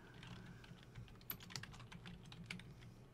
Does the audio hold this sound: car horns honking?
no